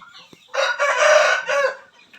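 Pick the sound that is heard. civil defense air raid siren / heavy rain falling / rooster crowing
rooster crowing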